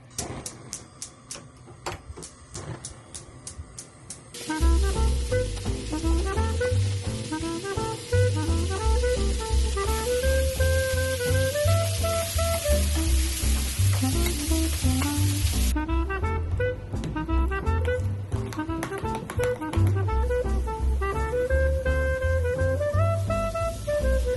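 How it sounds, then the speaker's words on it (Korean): Salsa vegetables sear in a little oil until charred, giving a steady, close sizzle that starts a few seconds in. The sizzle continues under melodic background music. "이 기름을 살짝만 넣고 겉이 살짝 까맣게 탈 때까지 구워줄 거예요."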